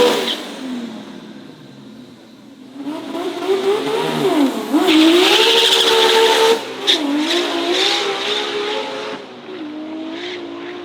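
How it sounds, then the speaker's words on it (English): A Nissan R30 Skyline built into a full drag car with a giant turbo makes a pass, the engine revving up hard through gear changes with tire squeal, loud and near, then fading as it pulls away. "That is an R30 Skyline turned into a full-blown drag car."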